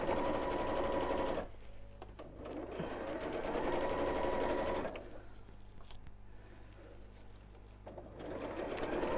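A domestic sewing machine stitches an insulated lunch bag in runs of steady mechanical whirring, starting and stopping with short pauses between bursts, close and clear with no talk.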